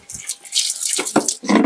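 Water splashes and drips from washed clothes being wrung out by hand over a bucket, in short bursts of dribbling and trickling, close and moderately loud with no talk.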